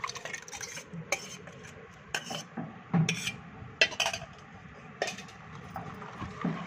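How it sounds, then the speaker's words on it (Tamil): A spoon stirs mashed lentils into cooked spinach in a pot, giving soft scraping and clinking strokes at an irregular pace, fairly quiet and close, with no voices. "இப்போ இந்த பருப்பு நம்ம அடித்து வச்சதை இதோட மிக்ஸ் பண்ணிக்கலாம்"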